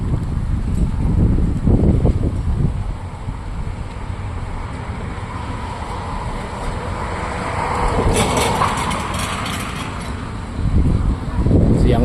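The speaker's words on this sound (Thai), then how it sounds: "พัดแรงมากนะครับลม" Strong wind in Phichit, Thailand buffets the microphone with loud, rumbling gusts that swell and ease over several seconds, with water and faint voices underneath, as rain approaches.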